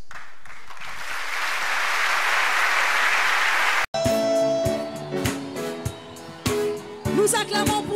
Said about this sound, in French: Nous acclamons pour la gloire de notre Dieu